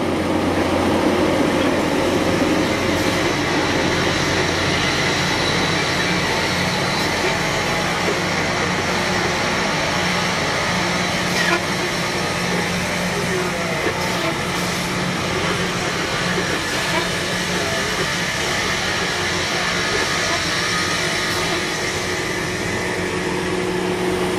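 A rail grinder train passes a road crossing while on fire, a loud continuous grinding roar with a steady low rumble and hum that carries on throughout without letting up.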